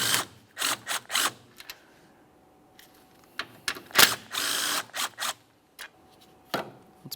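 A ratchet and power driver removing the 10mm bolts beside the radiator of a 2017–2024 GMC Acadia, giving close mechanical clicking bursts and brief whirring spells separated by quiet gaps.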